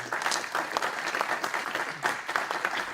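A small conference audience at Laval Virtual VRIC 2018 claps for presenter Peter, the individual claps distinct and uneven, with moderate loudness across the short stretch.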